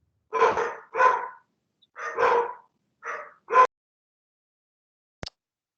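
A dog barks five times in two uneven pairs plus one more, fairly close and distinct, heard during an online committee meeting, followed by a short click and no talking.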